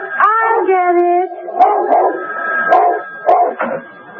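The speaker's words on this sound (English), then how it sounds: "Every time the phone rang, he barked and barked and barked till Joan answered it." A dog gives a drawn-out howling whine followed by several short, close barks and yips.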